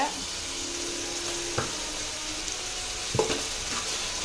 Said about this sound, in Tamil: இது நல்லா வதங்கட்டும், அதுக்கப்புறம் பார்க்கலாம்